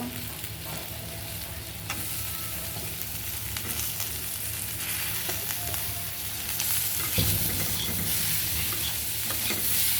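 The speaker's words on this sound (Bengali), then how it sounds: "হলুদের ফাঁকি মরিচের ফাঁকি ধনিয়ার ফাঁকি সাথে ফুলকপিও দিয়ে দেব" Cauliflower florets with turmeric, chili and coriander powder fry in a hot pan during a home fish-curry cook, giving a steady close sizzle with stirring scrapes and a few sharper bursts, with no talk.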